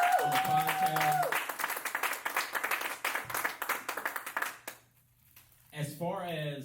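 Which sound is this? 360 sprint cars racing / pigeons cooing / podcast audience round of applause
podcast audience round of applause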